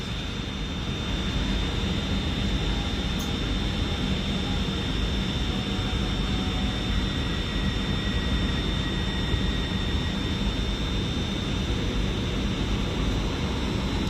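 An Avanti West Coast Pendolino from London Euston pulls into Birmingham New Street, a steady broad rumble and hiss of the train with a faint high whine, sustained and fairly loud for the whole stretch, no voices.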